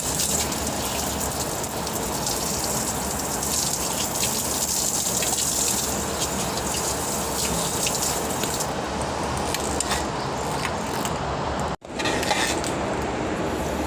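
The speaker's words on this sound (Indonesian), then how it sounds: "Jadi kita cuci sekali lagi, masukin air di bagian sini." Tap water gushes steadily for washing raw meat that will go into a herbal soup, a loud continuous splashing stream that breaks off briefly near the end and then resumes.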